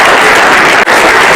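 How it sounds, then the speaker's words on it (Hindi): Loud, dense applause from the audience at a Hindi kavi sammelan poetry gathering in Haridwar, a continuous wash of clapping with one brief dip, no voices over it. "जोरदार तालियां बजाइए भाई श्री अनिल अग्रवंशी।"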